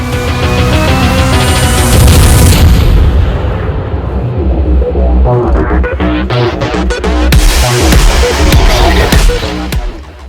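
Heavy naval guns of the German tier 5 cruiser Königsberg boom in a rolling volley in a warship battle game, loud and dense, with repeated blasts and rumbling echoes throughout.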